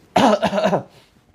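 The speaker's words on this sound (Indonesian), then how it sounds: "Tarik ke atas, batuk-batukan." A single burst of harsh coughing from someone close by, lasting under a second, then quiet.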